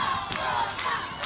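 A crowd at a neighbourhood anniversary celebration in La Victoria applauds and shouts loudly for a music group, a dense roar of cheering and clapping filling the whole brief moment.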